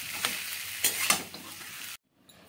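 A spicy peanut filling for puli pitha, with fried peanuts mixed in, being stirred in a wok. Close, crackling sizzle and scraping strokes run for about two seconds, then stop abruptly into near silence.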